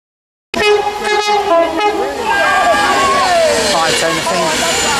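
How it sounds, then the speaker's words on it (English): A Class 350 London Midland electric unit on a Crewe to London Euston service at Stafford station makes a loud, steady motor whine with rising and falling tones, starting abruptly and continuing close by throughout. "a 350107 forming a London Midland service to London Euston from Crewe."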